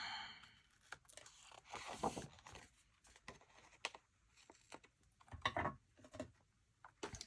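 Adhesive strips are cut and peeled off a memory planner page, giving quiet, close crinkling, tearing and snipping rustles in irregular bursts.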